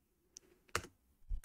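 A few scattered clicks and keystrokes on a computer keyboard while a Linux terminal command is entered, faint and close with quiet pauses between the taps.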